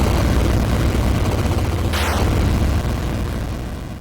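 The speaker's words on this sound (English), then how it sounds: "you'll get to experience one of the best explosions the NES has to offer" A fortress blows up in the 1989 NES game Air Fortress: a loud, continuous rumbling roar with a quick falling sweep near the middle, after which the noise slowly fades out. No one speaks.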